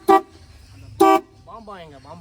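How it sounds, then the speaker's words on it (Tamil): A vintage Italian Fiat 1100 sounds its horn in two short, loud toots about a second apart, followed by a person talking. "இப்போ போய் ஹார்ன் அடி."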